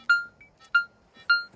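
Three clean electronic tones from an AKA Intronic metal detector in a test garden in Spain ring out at an even pace, each a short bright ping that fades quickly, with quiet gaps between them.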